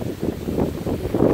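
Wind blowing outdoors near water, a steady rumbling gusty roar with mic buffeting that swells and eases over a short stretch, with no voices.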